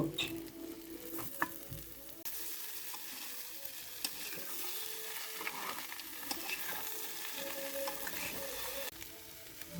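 Boiled eggs, cut into pieces, tumble into bitter gourd frying in a pan over medium-low heat. A steady sizzle carries clinks and stirring scrapes throughout, with no talking.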